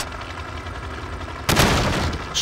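Burst of hip-fired gunfire in the Call of Duty Modern Warfare video game, a loud, dense rattle of shots erupting suddenly after a quieter stretch and continuing to the end.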